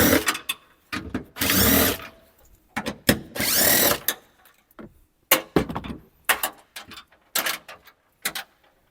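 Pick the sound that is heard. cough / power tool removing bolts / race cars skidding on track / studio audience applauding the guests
power tool removing bolts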